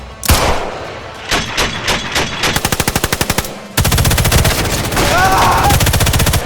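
Sniper Elite 5 game gunfire: loud bursts of rapid automatic fire, first irregular shots then a fast steady machine-gun rattle, a brief gap, then another long sustained burst with a faint whistle over it.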